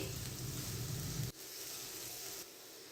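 Onions and green chillies frying in hot oil in a pan, a steady close sizzle and hiss that suddenly drops in loudness partway through, then continues more quietly, with no voices.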